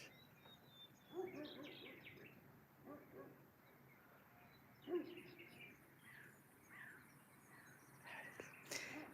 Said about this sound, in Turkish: Martılar, serçeler.